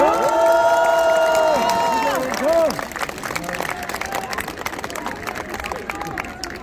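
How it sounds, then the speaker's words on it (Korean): A crowd at an outdoor political rally claps and cheers, the noise rising under a loud voice on a sound system, then continuing as scattered clapping and chatter. "박수 부탁드립니다"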